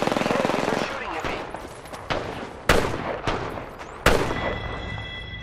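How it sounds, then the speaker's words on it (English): Enemy gunfire in Apex Legends on Nintendo Switch: a rapid automatic burst followed by several sharp, loud single shots, each with a decaying tail, and some in-game voice over it. "Enemies are shooting at me."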